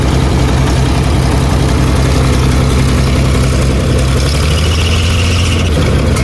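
A heavy old irrigation engine idles steadily and loudly, its low thumping drone continuous and close, with no voices.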